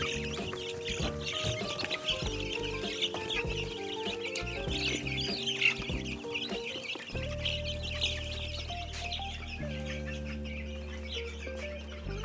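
Backyard flock of chickens clucking steadily, with overlapping calls and squawks from several birds close by, over a low background hum and no one talking.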